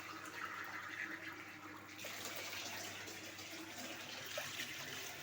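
Water poured into a cooking pot holding meat, a steady splashing and gurgling pour that continues for several seconds at close range, with no voices.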